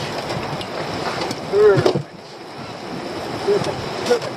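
Sea surf and waves wash steadily on a windy shoreline during crab fishing, with wind buffeting the microphone and a brief louder burst of water near the middle.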